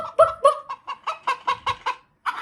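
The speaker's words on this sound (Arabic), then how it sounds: "طلع لي دجاجة" A chicken clucks in a quick series of short, loud bursts, sounded in an animal sounds guessing game with no talk over it.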